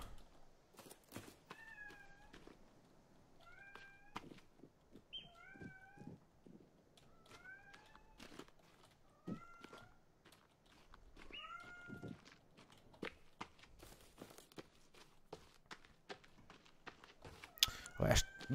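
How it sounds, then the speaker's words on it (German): A house cat meowing repeatedly at close range indoors, with several short rising and falling meows spread across the stretch between quiet gaps, along with scattered clicks and soft footstep-like knocks. "Schön, meine Katze, die versaut mir gerade die ganze Aufnahme."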